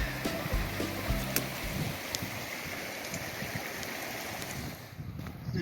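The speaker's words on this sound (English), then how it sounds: "There's another creek crossing." Steady broadband rush of flowing creek water in Colorado's Chicago Lakes Basin at about 11,500 feet, continuous and fairly close, with some wind noise buffeting the microphone.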